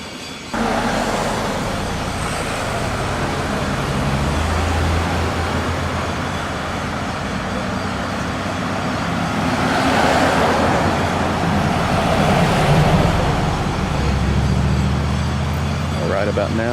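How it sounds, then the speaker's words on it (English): An incline railway car approaches on its track with a steady, broad mechanical rumble that grows louder and fuller toward the middle and end before easing. "here comes one of the incline cars now"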